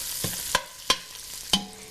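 Garlic and meat are stirred in a hot pan, with three sharp scraping clanks from a utensil over a soft, steady sizzle, close and fairly loud with no talking.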